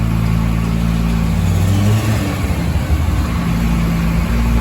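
A turbocharged 2JZ six in a Lexus IS300, a built, semi-tuned car, rumbles steadily up close and then pulls away with a rising, accelerating engine note, with no talk over it.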